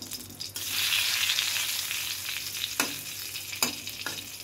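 Dried chillies and bay leaf frying in hot mustard oil, a loud, steady sizzle close by, broken by a couple of sharp clatters from stirring and no voices.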